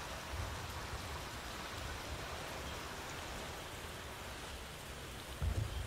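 Heavy monsoon rain pours down in a dense, constant hiss that carries on unbroken, with a low rumble near the end.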